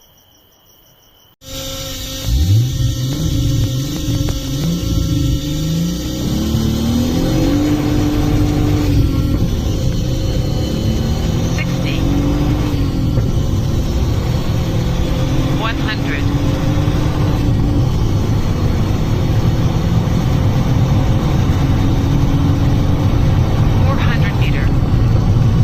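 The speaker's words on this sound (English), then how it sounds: "now we will be launching the car 3500 RPM" A car launched hard at 3500 RPM for a quarter-mile run, its engine roaring loudly and steadily up through rising gear pulls, with brief dips at each shift, close and continuous throughout.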